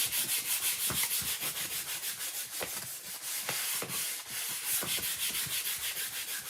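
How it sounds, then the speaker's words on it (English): Wax is buffed by hand onto a wooden surface, with rhythmic back-and-forth rubbing strokes, close and continuous. "we're going to go ahead and buff this wax in real nice."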